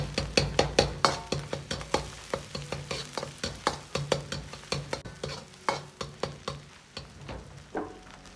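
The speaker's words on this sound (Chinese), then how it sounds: "接着下入葱姜蒜，炒出香味。" Scallion, ginger and garlic stir-fried with minced meat in a wok give a steady sizzle, broken by regular scraping strokes of the spatula, close up and with no talking.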